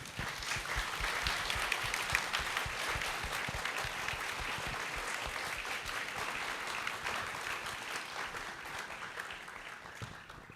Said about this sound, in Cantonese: 各位，請用熱烈嘅掌聲多謝我哋嘅家長